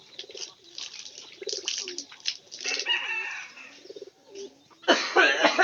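Pigeons being fed ground corn, giving repeated close, rhythmic cooing calls in short bursts, with a louder rustle of wings or feed near the end.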